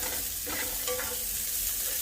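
Onions frying with cracklings in a pan for cube steak with onion gravy, giving a soft steady sizzle with faint stirring scrapes, quiet and continuous with no talking.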